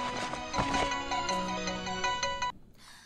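A phone ringtone for an incoming call plays a bright repeating electronic melody for about two and a half seconds, clear and close, then cuts off abruptly.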